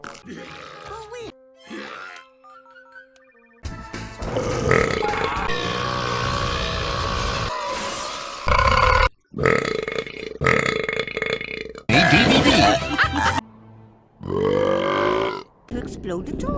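A rapid montage of cartoon burps, some long and rumbling, others short and croaky, separated by abrupt cuts, with bits of character talk and grunts mixed between them.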